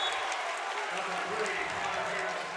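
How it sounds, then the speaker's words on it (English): Basketball crowd with a student section at an Elite 8 boys' game roaring and cheering, a sustained wash of noise with a commentator talking over it. "Listen to this crowd."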